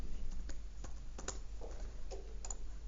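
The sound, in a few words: typing a student ID on a computer keyboard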